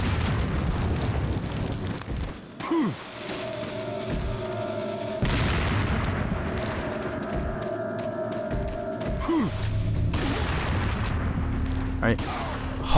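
A dynamite blast in the video game Resident Evil 4 hits as a deep boom, with several heavy bursts and gunfire-like thumps over a dense game soundscape, and a voice talking over it.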